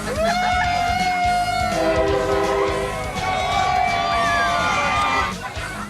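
A train rumbles past close by a fence with a long, steady roar, a horn sounding partway through, and a crowd faintly audible beneath.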